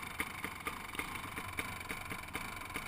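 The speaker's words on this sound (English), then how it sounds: "That's why his bike's popping." A motorcycle engine running at about 5,540 feet of altitude, heard as a faint, steady mid-pitched drone broken by regular popping bursts a few times per second, with no voices.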